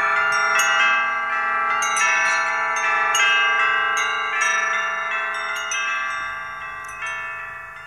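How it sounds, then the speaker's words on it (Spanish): Church bells ring out together in a bright, sustained peal, with repeated strikes layering over a lingering metallic hum that slowly fades, loud and alone without voices. "No tardaban los de Tundelatapa en echar a vuelo las campanas de la iglesia más otras campanas"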